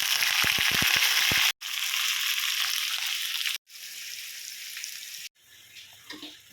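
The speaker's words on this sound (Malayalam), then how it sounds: "ഇത് കടുക് പൊട്ടിച്ചിട്ട് താളിച്ച് അതിലേക്ക് ചേർക്കണം" Mustard seeds splutter in hot oil while tempering a roasted-coconut mushroom curry with onion, dried red chillies and curry leaves. A loud, steady sizzle carries sharp crackling pops early on and is broken by a few brief cuts.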